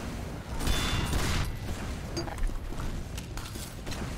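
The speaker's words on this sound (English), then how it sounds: "I got, like, suspended in midair from the freaking loose cannon shot." Loose Cannon shot in Team Fortress 2, heard as a dense barrage of booming gunfire and explosive blasts layered over continuous game noise, with brief sharper cracks scattered throughout.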